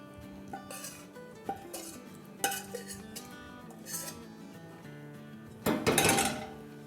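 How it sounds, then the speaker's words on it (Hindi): Cooked chicken for a chicken rara curry is dished out of a pot, with scattered metallic clinks and scrapes of a spoon against the vessel and a louder clattering scrape toward the end, close and without talk. "चले अब हम चूल्हे को बंद करते हैं और उसको डिश आउट करते हैं"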